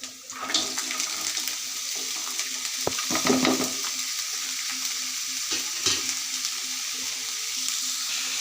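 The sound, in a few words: carrots, cauliflower and onion frying in oil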